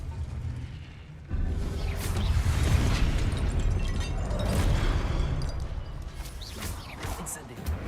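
Blasting Confringo spell explosions in Hogwarts Legacy, a loud booming burst kicking in after a quiet start and rumbling on amid game effects, with talk running over it.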